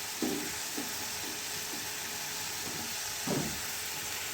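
Ground cumin dropped into a hot frying pan, producing a steady soft sizzle with a few scraping stirs of a spoon, fairly close and quiet, with no talking.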